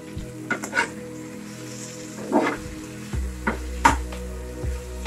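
Bun kebab mixture being mashed and fried in oil in a pan, giving a close, steady sizzle broken by several sharp scraping and tapping strokes of a spoon against the pan, with no talk.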